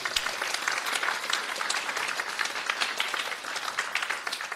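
Congregation in a church clapping together in a steady, dense burst of applause that fills the room throughout, fairly close and even in loudness, with no talking over it.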